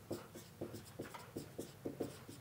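A lecturer writing on a board, heard as a steady rhythm of soft close strokes and taps, about a dozen marks in quick succession, with no talking.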